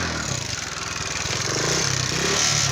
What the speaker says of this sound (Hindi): टिब्बे यार मोटरसाइकिल पे चल रहे हैं